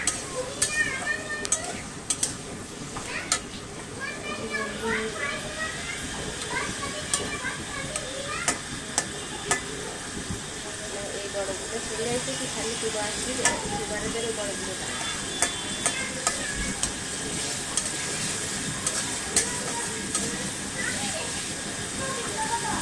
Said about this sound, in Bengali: এক কাপ পেঁয়াজ কুচি দিয়ে দিয়েছি। এটা এখন ভালোভাবে ভেজে নিতে হবে।